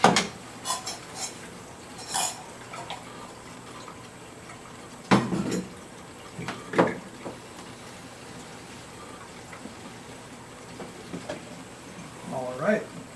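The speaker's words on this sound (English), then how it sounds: "Rinse off everything again." Water rinses a film developing tank and its reels, with intermittent clatter and knocks of the tank and reels under a steady wash.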